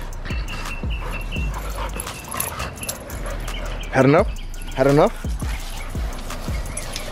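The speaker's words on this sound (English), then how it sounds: "These dogs don't stop playing for nothing." Dogs playing in a back yard, with short yips and whimpering cries among scuffling and panting, close by under a voice speaking.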